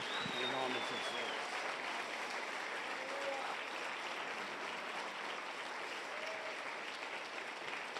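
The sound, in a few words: congregation applause for Jesus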